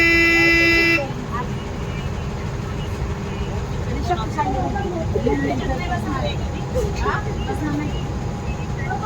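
Busy roadside traffic jam at a closed railway gate, engines rumbling and a horn tooting at the start, scattered honks further off, and people talking in the background.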